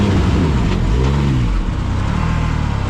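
A Can-Am Maverick R side-by-side engine droning loudly, its pitch rising, dipping at a shift, then settling into a steady pulsing note, close and continuous with no talk.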